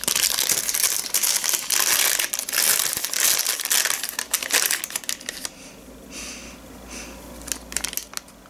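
A matcha tea sachet packet being crinkled and crushed close up, a dense run of crackling plastic rustles for several seconds that thins to sparser handling noises toward the end, with no talk.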